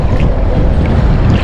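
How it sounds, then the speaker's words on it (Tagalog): Strong wind buffets a small fishing boat out at sea, a loud steady rush of gusts and water noise filling the whole stretch with no voices. "Lakas ng hangin."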